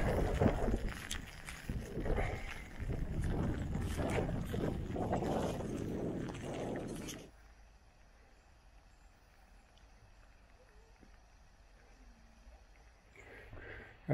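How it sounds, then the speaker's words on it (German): Strong storm wind in a rural area near Hattingen during flooding roars and buffets loudly for about seven seconds, then suddenly drops to a quiet hush with faint gusts returning at the end. "Und auf einmal kam hier richtig Wind auf, ganz spontan."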